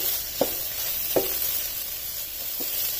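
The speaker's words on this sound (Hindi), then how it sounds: "और अब इसमें जो मैदा ऐड किया है उसे 1 से 2 मिनट तक इसमें भून लेना है।" All-purpose flour frying into a keema mixture in a pan, a steady soft sizzle with three brief stirring scrapes spaced across it, no voices.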